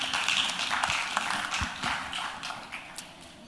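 An audience at a Gitex 2020 conference on AI in industrial automation claps for a speaker, a scattered, moderately sized burst of applause with individual claps standing out.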